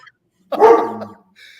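A dog gives one close, loud bark, a short sharp bow-wow with a slight whining tail, heard alone between brief quiet moments.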